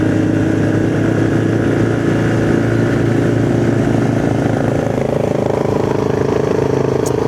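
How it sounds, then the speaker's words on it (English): A Kawasaki KLX 140 motorcycle engine runs up close and loud, holding a steady idle with a slight rise in pitch toward the end, without sharp separate blips. "Hasn't been running in a while, and I do miss the blip of the throttle"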